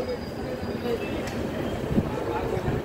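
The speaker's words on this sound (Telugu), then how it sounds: "సో మన ట్రైన్ అయితే దోన్ జంక్షన్ నుండి అయితే బయలుదేరిపోయింది." Kurnool–Guntakal DEMU passenger train pulling out of Dhone Junction, heard from on board as a low rumbling roll with faint rhythmic wheel knocks and a thin high whine, a voice talking over it.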